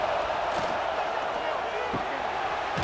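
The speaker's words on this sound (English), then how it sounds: "Listen to this crowd just shaking the girders of this place" Stadium crowd at a college football game in College Football 26, Miami versus Florida, a loud continuous roar filling the whole stretch with faint thumps and claps mixed in.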